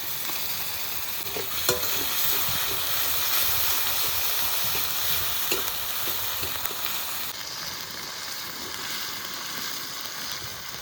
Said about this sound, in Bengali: আদা রসুন পেঁয়াজ একটু ভেজে নিয়েছি